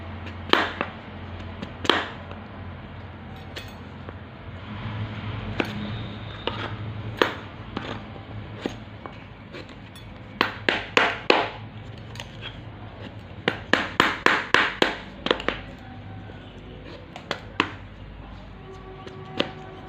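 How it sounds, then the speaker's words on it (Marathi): Raw mangoes being finely chopped for pickle, sharp knife strikes on a board in scattered single cuts, then quick rhythmic bursts of rapid chopping, close and crisp against a low background hum. "आपण या सगळ्या आता कैऱ्या बारीक कट करून घेतलेल्या आहेत"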